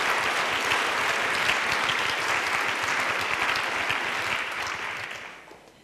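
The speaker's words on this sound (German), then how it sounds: "da gehört eigentlich auch ein großer Applaus" Loud, dense applause from a lecture audience, sustained and steady for several seconds before tapering off at the end.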